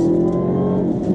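A V6-to-Hellcat-Redeye-swapped Dodge Charger, a garage-built car of about 4,600 pounds, revs hard with a steady, loud, deep engine roar close by, held throughout with no talking.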